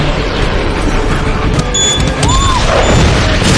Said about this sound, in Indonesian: seluruh drone Justin telah diprogram oleh Ivan untuk meledakkan diri